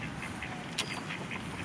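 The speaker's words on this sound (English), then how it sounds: "You're never gonna catch that duck, you know, Izzy." A duck gives a string of soft, repeated quacks at a moderate distance while being chased by a baby outdoors, with faint background noise.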